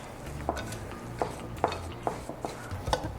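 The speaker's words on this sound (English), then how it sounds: "now I'm just gonna mix this up" Pecan streusel topping for a sweet potato casserole being mixed in a bowl, with several distinct scraping clinks of a utensil against the bowl spaced irregularly over a low background.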